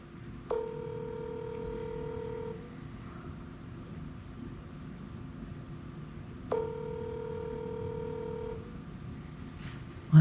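An outgoing phone call rings on the line, two long electronic ring tones about six seconds apart against a faint background hum, with no one speaking.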